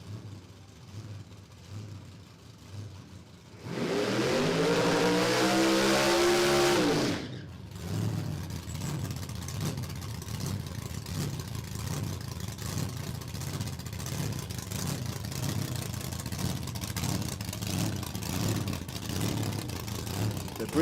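A supercharged LS V8 in a Camaro at a drag racing event revs hard in a loud, rough burst of a few seconds, then drops back to a lumpy idle under crowd and ambient noise.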